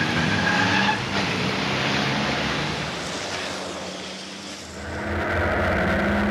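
Race trucks from the FIA ETRC championship racing at the Budapest circuit, a loud continuous roar of heavy engines with broadband tire and track noise, swelling again toward the end as the pack passes close by.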